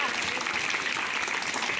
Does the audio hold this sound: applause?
yes